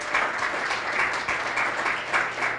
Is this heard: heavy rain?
no